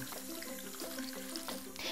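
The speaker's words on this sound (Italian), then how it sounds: "Adesso non ci rimane che aggiungere l'acqua," Water pours into a cooking pot holding chunks of peppers and potatoes, a steady close splashing and trickling with a brighter gush toward the end.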